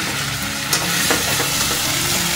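Spiced food frying and being stirred in a pan, a dense, steady sizzle close up with faint scraping strokes, constant in level throughout.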